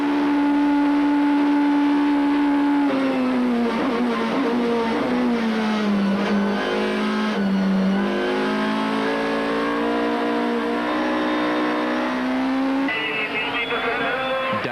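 A Toyota Corolla rally car is driven on the absolute limit around Killarney in the 2002 Cape Rally, its engine revving hard and loud through repeated gear changes as pitch rises and falls, with some tire noise.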